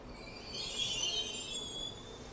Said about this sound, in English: a City Circle service arriving into platform number 7